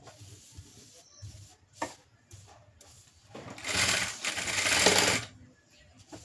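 Sewing machine stitching the lining onto a blouse front, running in short bursts with pauses, then a longer loud whirring run, close and mechanical.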